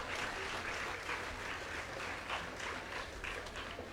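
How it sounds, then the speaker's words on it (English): A school STEAM fair audience gives the judges a round of applause, a continuous, even wash of many hands clapping at moderate distance, with no voices standing out. "So please give the judges who worked so hard a round of applause."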